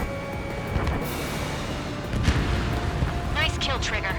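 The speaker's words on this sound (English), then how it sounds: "Nice kill, Trigger. Enemy aircraft confirmed down." A missile strikes an enemy aircraft in the Ace Combat 7 flight game, a rumbling explosive burst over continuous jet engine roar, with a radio voice speaking near the end.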